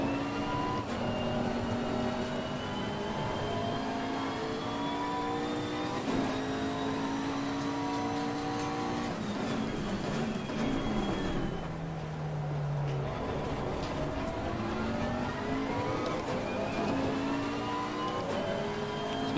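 A GT race car laps Zolder circuit in steady rain in Assetto Corsa Competizione, its engine droning continuously through rising and falling gear sweeps, with a brief lift and downshift midway before pulling hard again.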